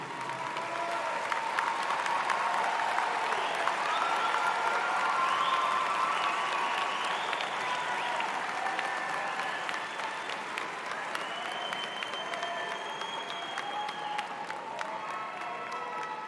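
Graduates at a university undergraduate business and STEM graduation ceremony give a long round of applause for their supporters, a sustained wash of clapping with some cheering and whoops rising over it.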